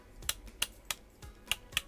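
Crisp, firm clicks from the rotary knobs on a Fanatec Podium Rally sim-racing wheel, five or six sharp detent snaps spaced roughly evenly, close and fairly quiet with no voices.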